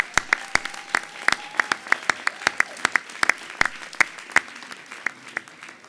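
A graduation ceremony crowd applauds master's students, with sparse, distinct claps from a smallish audience ringing out in a hall under a soft general wash of clapping.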